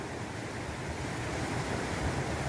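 River water rushes over large rocks in a steady, broad roar that holds constant with no pauses, close and moderately loud, with no talking.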